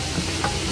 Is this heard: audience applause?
no